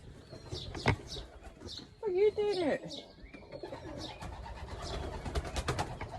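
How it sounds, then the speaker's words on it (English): A pigeon cooing close by with a rising and falling throaty call in the middle, amid outdoor noise and brief wing flutter, while a person talks around it. "A bird just flew up above my head."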